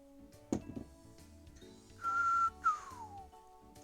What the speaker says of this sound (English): I can't whistle very well.